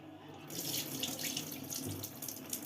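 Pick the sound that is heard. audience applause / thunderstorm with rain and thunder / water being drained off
water being drained off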